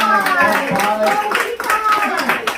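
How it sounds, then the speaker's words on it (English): Studio audience applause for a game show guest, a steady wash of clapping with voices and cheering over it throughout. "Give him a nice round of applause."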